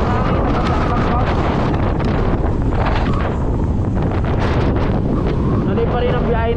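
Loud, constant wind roar buffets the microphone during a night motorcycle ride in Quezon, a dense rushing noise with no letup throughout.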